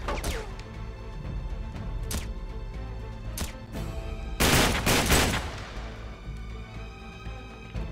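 Repeated gunfire in the Uncharted 3: Drake's Deception video game: dense overlapping shots and bursts, with a loud heavy volley near the middle that trails off into quieter scattered fire.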